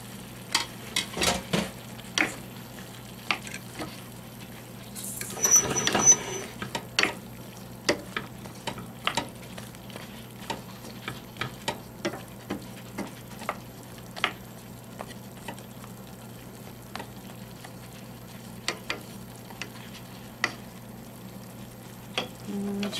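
Green beans cooking in a pan with Cajun chicken, giving a steady low sizzle with scattered ticks and stirring clatter, plus a louder burst of scraping and sizzle early on.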